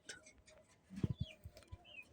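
Caged pigeons coo softly: a few low, throaty pulses in a quick burst, fairly quiet, with faint chirps in the background.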